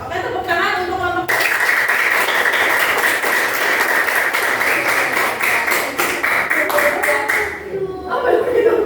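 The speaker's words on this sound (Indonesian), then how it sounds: "Oke, tepuk tangan untuk kelompok." A group claps together for several seconds for a student discussion group, a burst of applause between stretches of speech at start and end.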